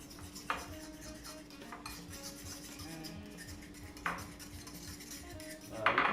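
A metal utensil stirs and clinks against a bowl while mixing a honey seasoning sauce for Japanese fried chicken (karaage): several light, close taps and scrapes spaced unevenly.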